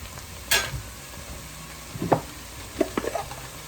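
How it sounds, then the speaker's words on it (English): Minced garlic dropped into a hot pot of softened peppers, giving a few short bursts of sizzle and stirring scrapes over a quiet background hiss. "Got our minced garlic. That's going in there."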